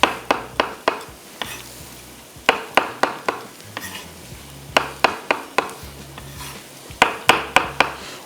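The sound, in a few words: mushrooms being added and cooked in the pan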